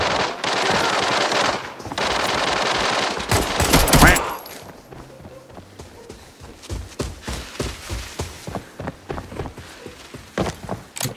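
M61 gunfire in a mobile battle-royale shooter, rapid automatic bursts crackling loudly for a few seconds, then scattered shots and movement noises with some voices mixed in.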